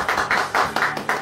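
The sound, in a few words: people applauding for Tom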